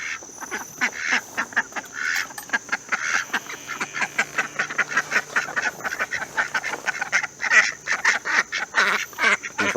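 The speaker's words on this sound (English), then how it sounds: "So use the ducks" A flock of ducks quacking in a garden, loud and close, with rapid overlapping honking calls running continuously throughout.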